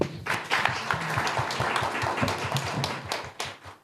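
Audience at an investor panel and elevator-pitch event claps in a brief round of applause, a dense patter of hand claps of moderate loudness, some individual claps standing out, with no speech over it.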